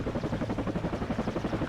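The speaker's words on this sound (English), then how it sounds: "It does have the helicopter sound" Helicopter rotor chopping from the anti-tank helicopter unit in the WARNO strategy game, a steady rapid thudding rhythm throughout, close and alone with no talk.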